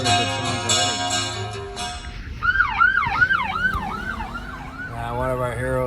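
An emergency vehicle siren wails past with rising and falling sweeps, growing louder and then fading. It follows a short stretch of music and carries faint background noise beneath it.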